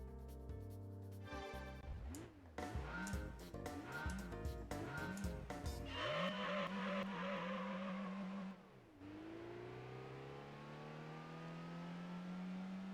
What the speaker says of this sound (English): it's the 1000 meter braking challenge, and we're driving a Volkswagen Beetle